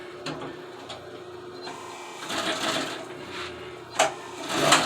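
A sewing machine lock stitching upholstery for old Suburban car seats, running in short, uneven mechanical bursts with clicks and a louder final run, fairly quiet and close.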